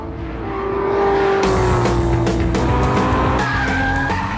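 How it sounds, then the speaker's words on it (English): Volkswagen Scirocco TDI driving fast, a loud close engine roar with a sliding pitch and rising tire squeal, sustained throughout. "This is the new Scirocco TDI. It's pretty fast."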